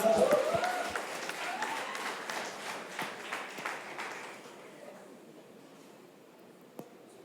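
Audience applause at a church sermon in India, broad and steady at first, then thinning and fading away over several seconds to near quiet.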